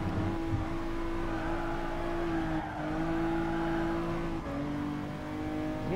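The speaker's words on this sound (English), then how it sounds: "NSX is, it's a damn good sounding car." A Honda NSX in the racing game GT Sport revs its engine in a steady, loud, harmonic drone that rises and dips slightly over six seconds, with no talking.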